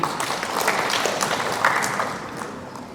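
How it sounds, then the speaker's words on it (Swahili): An audience at a chemical-industry stakeholders' gathering applauds with dense, steady clapping that holds at a fairly even level throughout. "tuwape makofi mengi"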